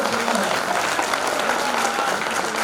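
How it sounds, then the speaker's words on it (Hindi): Audience members at a Brahman Samaj gathering clap together to welcome a speaker, a brief burst of steady, dense applause filling the hall, with voices faintly mixed in. "सब लोग तालियां स्वागत करेंगे।"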